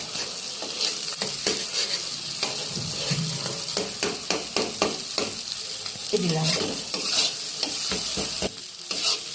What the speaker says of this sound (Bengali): ভালো করে ভেজে নেব ভাজা হয়ে গেলে তারপরে এই সাইডে যেসব মশলাগুলো রেখেছি সেগুলোর সাথে মিশিয়ে দেবো